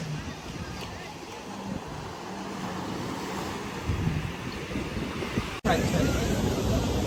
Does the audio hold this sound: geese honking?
no